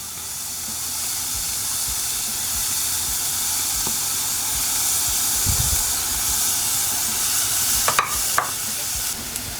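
Ginger sizzles softly in melted coconut oil in a pan, a steady gentle hiss with a few faint clinks near the end and no talking.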